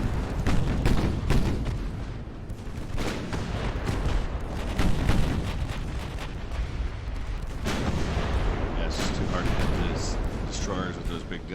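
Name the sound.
small naval guns firing in the video game Ultimate Admiral: Dreadnoughts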